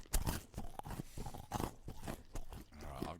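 Close, loud crunching as someone bites and chews a crunchy Easter egg, with irregular sharp chomps and grinding bursts repeating throughout and no talk over it.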